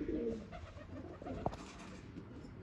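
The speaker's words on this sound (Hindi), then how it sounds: "छत वाले कबूतर।" Rooftop pigeons coo softly in low, throaty bursts against a quiet outdoor background, with one brief sharper call partway through.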